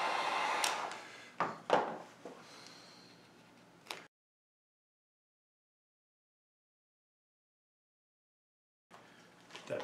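A heat gun blows steady hot air over adhesive accent kit material on a Glock pistol, a loud breathy rush for about four seconds with a few handling knocks, then silence before the blower starts again near the end.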